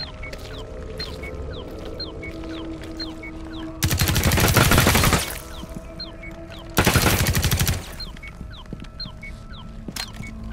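Automatic gunfire from Rainbow Six Extraction on Xbox Series X, two loud sustained bursts of rapid shots a few seconds apart over a quieter game ambience with faint repeated pings.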